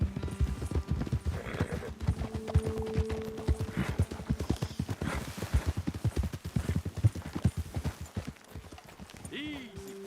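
Horse hooves clip-clop in a steady, brisk rhythm on a trail in the video game Red Dead Redemption 2, close and clear, with a horse's brief snort and someone talking over it.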